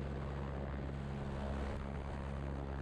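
A helicopter setting down gently on sloped ground, its rotor and turbine producing a loud, steady droning whir heard close up, with no voices.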